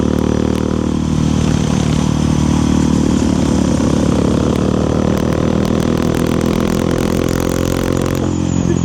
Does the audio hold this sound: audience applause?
no